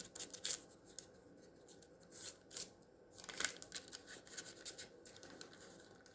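Scissors snipping through material for a hand-moulded candle craft, several short close cuts and rustles spaced across a quiet background without talk.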